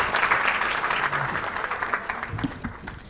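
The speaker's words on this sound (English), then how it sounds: "Give her a big round of applause for all of our speakers, please." Steady applause from a conference panel audience, dense and continuous clapping throughout, fading slightly toward the end.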